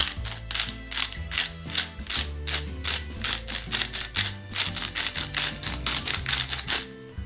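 A pepper mill grinds pepper over a mashed potato mixture for curry potato fritters, giving a close, rapid series of ratcheting mechanical clicks in a steady rhythm with no talking.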